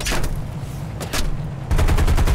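Rapid machine-gun fire rattles in the air-combat game War Thunder during a bomber fight, with clusters of sharp shots over a constant engine drone that grow louder and denser toward the end.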